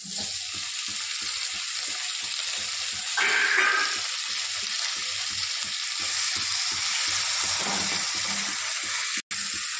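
Tomato, capsicum, onion and green chilli frying together for masala noodles give a steady close sizzle with a regular rhythmic pulse of stirring, a brief hissing burst midway and a short drop near the end.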